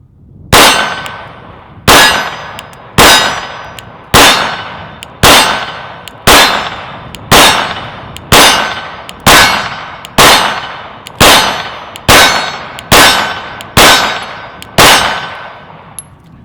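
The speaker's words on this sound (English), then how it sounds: "We're going to be shooting at a shootsteel.com steel target, and I'm going to run one magazine through this" A Glock 19 pistol fires one magazine at a steel target: about fifteen loud, sharp metallic clangs ring out at a steady pace of roughly one per second, each with a short ringing decay.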